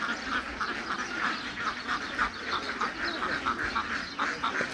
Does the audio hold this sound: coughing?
no